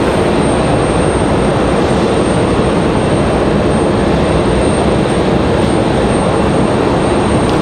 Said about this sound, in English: We do have an exec jet touching down, looks like